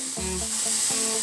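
Boiled black gram dal with salt and turmeric hits hot oil with fenugreek seeds and sizzles steadily up close, with a low hum running beneath the frying.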